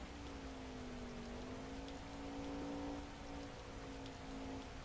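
Steady rain falls throughout a video game scene, a continuous even hiss with a low droning tone underneath and no speech.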